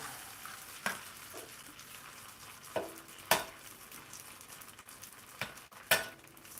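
An egg frying in a pan for a shrimp breakfast bowl: a soft, quiet sizzle broken by several sharp utensil clicks and taps against the pan.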